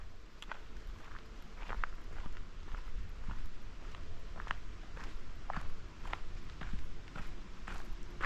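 Footsteps crunch along a forest trail in hot weather during a solo mushroom-foraging walk, a steady walking rhythm of close, crisp steps over leaf litter and undergrowth with a constant outdoor hum beneath.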